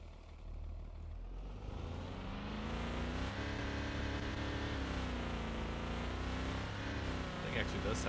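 A car engine with flaming exhaust revs in the driving game Car For Sale, a steady, loud, rumbling drone with rising and falling pitch that runs throughout without speech.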